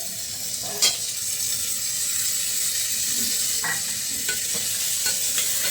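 Finely chopped country tomatoes sizzle loudly in a hot pan while being stirred for tomato pea pulao, a steady frying hiss broken by a few sharp spoon scrapes.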